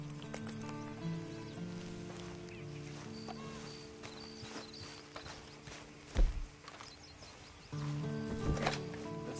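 Horse hooves clip-clop at a steady walking pace in the video game Red Dead Redemption 2, fairly close, set against a busy ambient backdrop of music and environmental noise.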